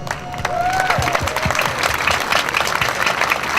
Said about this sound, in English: Let's hear it for Herman